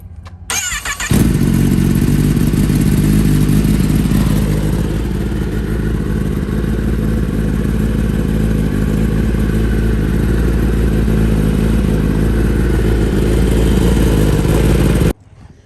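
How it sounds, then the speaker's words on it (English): A 2023 Kawasaki ZX10R sport bike fires up after a brief crank and settles into a loud, steady idle close by for over ten seconds before cutting off. "I'm gonna start the bike so the oil circulate throughout the bike."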